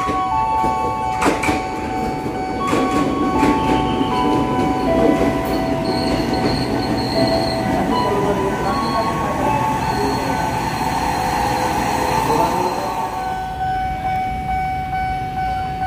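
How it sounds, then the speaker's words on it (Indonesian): Diesel locomotive rolling past on a railway track near a station, steady rumbling roar with clattering wheel thumps early on and a squealing tonal whine, close and loud throughout. "Dari tadi lokomotif terus."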